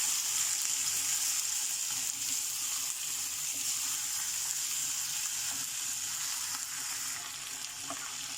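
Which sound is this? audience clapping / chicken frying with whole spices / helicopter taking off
chicken frying with whole spices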